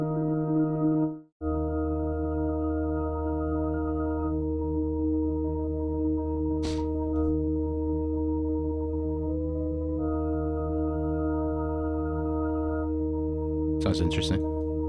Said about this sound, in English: Some bass notes under